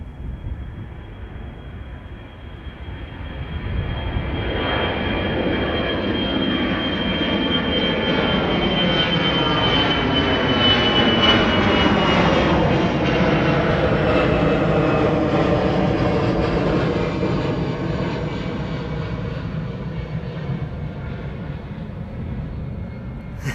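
A KLM Cargo Boeing 747 roars past at Schiphol, a loud, sustained jet engine rumble that swells with a rising then falling whine as it nears and passes, fading slowly afterward.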